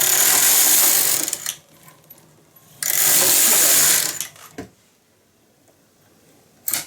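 A knitting machine carriage makes two loud, rasping sweeps across the needle bed, each lasting about a second and a half with quiet clicks in between, then a faint clack at the end.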